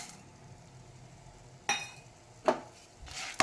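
A spoon stirs coriander seeds, urad dal and fenugreek roasting in a pan, giving three sharp metallic clinks and scrapes spaced about a second apart over a faint, quiet background.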